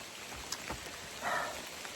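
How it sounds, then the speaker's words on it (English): Steady rain falls and patters outdoors, a soft continuous hiss with scattered drop impacts and a brief louder splash, fairly faint and with no talk. "and it's raining"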